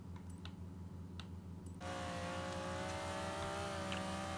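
An 800HP Ford Escort in Forza Horizon 3 idles with a low steady engine hum, then the revs jump sharply into a loud sustained acceleration with a strong rising tonal whine that holds to the end.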